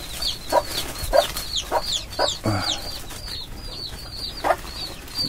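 A mother hen and her chicks cluck and cheep at feeding time, scattered soft clucks and repeated high peeps close by, with light rustling and no talk.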